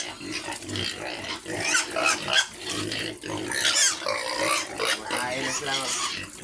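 Pigs grunt and oink loudly while being fed, a busy overlapping stream of snorts and squeals from close by, with a person talking over them.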